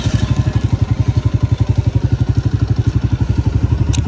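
A new Honda motorcycle engine runs while a child rides it, giving a loud, close, steady rapid thumping like an even idle that holds throughout.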